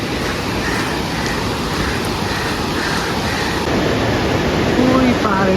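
A waterfall on the Poon Hill trek in Nepal gives a constant broadband rush, even and unbroken throughout, with faint murmuring voices in the background.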